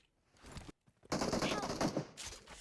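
Bursts of automatic gunfire in the mobile shooter PUBG Mobile, one short burst followed by a longer loud rattling volley after a brief gap, with players talking around it.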